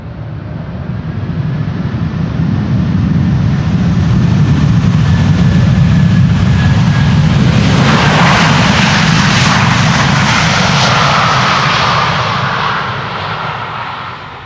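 A 22-year-old Delta airliner touches down on Schiphol's Polderbaan runway 18R, its thrust reversers building into a loud, broad roar that swells, holds heavily for several seconds, then slowly tapers as the jet decelerates.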